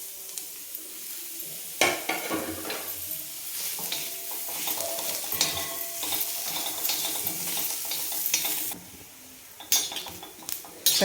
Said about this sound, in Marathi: ह्या लोखंडी तव्यावर भाजून घेऊ